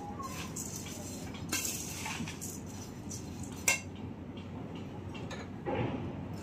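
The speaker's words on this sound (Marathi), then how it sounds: "त्यावर आपण मस्त सांबार घालून घेऊया आणि याला छान मिक्स करू" Light clinks and scrapes of a spoon stirring kacha chivda with coriander in a bowl, a few louder knocks standing out from a low, steady background, with no voices.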